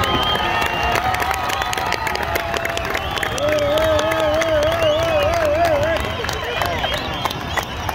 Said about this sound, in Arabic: كاين تفاعل الجمهور مع هذا الصرف